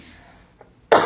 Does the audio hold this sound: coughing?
yes